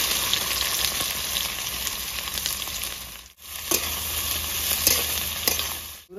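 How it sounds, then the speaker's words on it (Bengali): Chopped onions fry in mustard oil with cardamom, cloves and bay leaf, giving a close, steady sizzle that briefly cuts out midway before resuming, with no talking. "পুরো পেঁয়াজটা আমার ভাজা হয়ে গেছে,"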